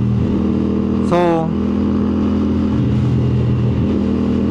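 Road traffic surrounds a rider on a CF Moto 450 SR-S, a steady engine drone and vehicle rumble with a brief rising rev in the middle, while a voice speaks over it.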